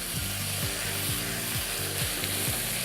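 Peppers and edamame stir-fried in a pan, a steady close sizzle with rhythmic scraping strokes of tossing roughly every half second, alone without talk.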